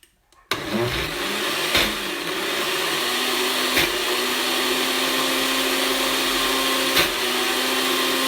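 Kitchen blender pureeing cooked pumpkin runs loud and steady for about eight seconds after a brief start, with a few small bumps in its whine and no talking over it.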